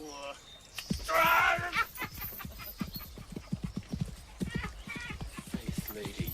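Horse hooves clip-clopping in a steady walking rhythm, close and clear, with a brief whinny near the start and voices talking over the hoofbeats.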